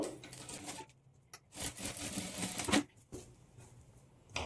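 A sewing machine stitches darts on a boat neck net blouse, sounding as short uneven bursts of mechanical whirring and clatter with quiet gaps between runs.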